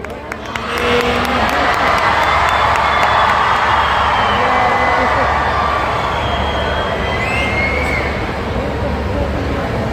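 Students in an auditorium cheer loudly as a sustained crowd roar, with a dense wash of voices and some whistles that stays steady and close for the whole stretch.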